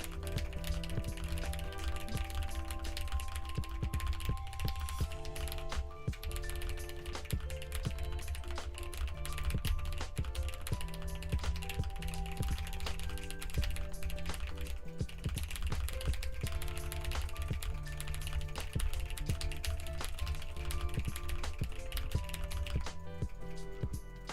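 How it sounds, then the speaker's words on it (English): Rapid computer keyboard clicking from someone playing Minecraft runs continuously in the background, dense and fairly faint, with no talking. "for anyone who hears clicking in the background, that's my brother. He's tryharding at Minecraft right now."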